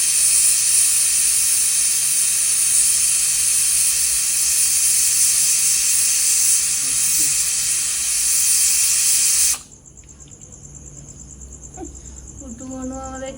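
White cooking oil hisses in a hot pan with a loud, steady sizzle that cuts off abruptly, leaving faint clinks and quieter sounds.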